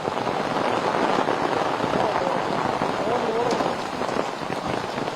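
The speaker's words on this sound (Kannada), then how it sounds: "ಇಲ್ಲೂ ಕೂಡ ಧಾರಾಕಾರ ಮಳೆ ಆಗ್ತಾ ಇರ್ತಕ್ಕಂಥದ್ದು ನೀವು ನೋಡಬಹುದು" Heavy rain pours down outdoors near a guest house with a dense, steady hiss that never lets up. It stays loud and close throughout, and no distinct speech sits over it.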